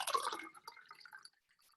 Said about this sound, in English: I take this vessel and I pour water into it